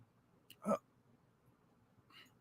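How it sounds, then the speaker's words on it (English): A single sharp hiccup bursts out, loud and close, in an otherwise quiet moment, followed by a fainter catch of breath. "I'm going to get rid of these hiccups in just a second."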